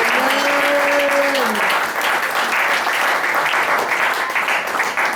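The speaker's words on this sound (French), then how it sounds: "Acclamons pour le Saint-Esprit." A church congregation at a Pentecost service breaks into steady, sustained applause that fills the room, with a brief held musical tone early on and no voice over the clapping.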